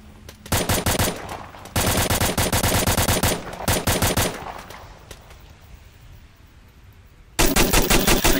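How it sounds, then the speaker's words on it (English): A SAW light machine gun fires in the VR shooter Onward, with several long sustained bursts of rapid automatic fire separated by brief gaps, loud and close. "I think the fire rate on the saw is way too slow."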